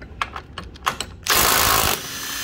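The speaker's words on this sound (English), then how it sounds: "So grab an impact. Let's take out that one." An impact wrench hammers out a bolt on an Audi A6 C6, a steady loud burst of about two-thirds of a second following several short ratcheting clicks and knocks.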